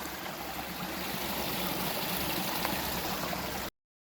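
A big spring pours out of a collapsed cave, making a steady, close rushing of water that continues unbroken until it cuts off abruptly near the end.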